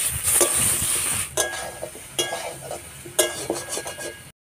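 Chilli paste and chopped tomato frying with taro in a pan for a fish curry, a steady close sizzle with repeated stirring scrapes and clinks of a spatula against the pan.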